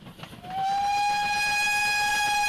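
A heritage steam train on the Gloucestershire Warwickshire Railway sounds its whistle, a loud sustained tonal blast rising in after a brief quiet moment and holding steady to the end.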